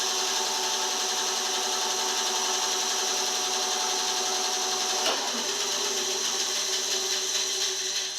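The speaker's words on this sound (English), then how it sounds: "it's rubbing a little bit on these guides, the top and bottom there" A bandsaw runs with a newly fitted blade rubbing slightly on its upper and lower guides, producing a steady high whirring hum with a faint scraping edge and one brief knock midway, alone and moderately loud.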